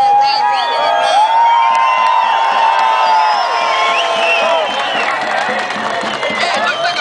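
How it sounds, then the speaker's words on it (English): A crowd at an immigration reform rally in Washington, D.C. cheers, whoops and shouts continuously, a loud sustained roar of many voices with high calls rising above it. "Let's give her a round of applause."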